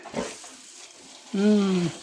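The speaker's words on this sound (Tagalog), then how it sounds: "Tignan natin yung mga baboy." Pigs on a farm grunt and squeal, with a brief low noise early on and then a loud, drawn-out squeal lasting about half a second; a person speaks faintly in the background.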